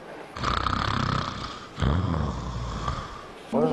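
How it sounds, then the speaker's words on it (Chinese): A man snoring in his sleep, two long, loud, rasping snores with a throaty rattle, heard close, followed by the start of a voice at the very end. "他打呼噜吵得我真的是睡不着"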